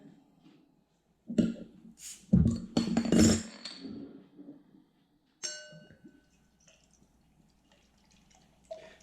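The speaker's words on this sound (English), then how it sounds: "Let's get the beer out into a glass, see what we get." Founders Canadian Breakfast Stout is poured from a bottle into a glass, with glassy clinks, a gurgling pour and liquid splashing in bursts, followed by a sharp ding and quieter fizzing, all close and fairly soft.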